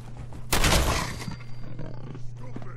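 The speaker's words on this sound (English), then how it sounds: "hearing a dog, or one of the mutant dogs" A mutant dog in the video game Fallout 4 lets out a sudden loud growling snarl, followed by quieter rumbling noise and a faint steady hum under it.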